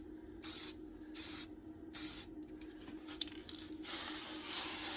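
A spray can lays paint onto an MK3 Raleigh Chopper bicycle in three short, even bursts, then a cluster of quick clicks and a longer continuous hiss, close and clear.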